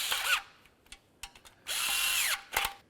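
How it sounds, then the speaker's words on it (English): Power tool snugging oil pan bolts and nuts on a 2003-08 Toyota Matrix, short whirring bursts with a longer run in between, close and fairly quiet, no talk. "Now that we started all of our bolts and nuts, it's going to be time to snug these up."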